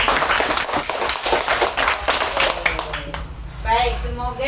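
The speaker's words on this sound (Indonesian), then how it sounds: "Tepuk tangan dulu untuk kita semua." A classroom of pupils claps hands together after their teacher's prompt, a burst of brisk, mixed claps for a few seconds, then tapering off as the room goes quieter with some voices.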